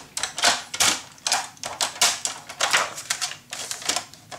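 Paper being cut for a Halloween scrapbook mini shadowbox album, a close run of rapid rhythmic slicing strokes with short pauses, sounding crisp and steady throughout.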